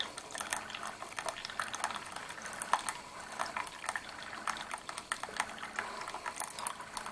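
A Keurig K65 personal coffee maker brews with continuous bubbling, gurgling and dripping liquid, steady and close with small irregular pops.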